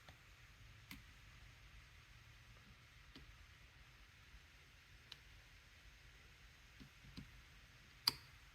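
Pins click faintly inside an Abloy Classic disc lock being picked; scattered tiny ticks sound against a quiet hiss, with one sharper click near the end.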